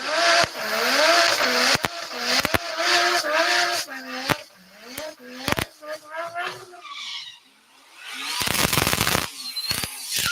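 Race cars launch side by side at a heads-up drag racing eliminations event, a Ford in the left lane, with engine roar and tire noise building under steady commentary from a voice, then a loud burst of car noise near the end.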